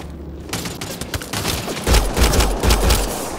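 Gunfire from the player's weapon in Mass Effect: Andromeda, a run of loud, close bursts and sharp shots that grows denser in the second half over constant game background noise.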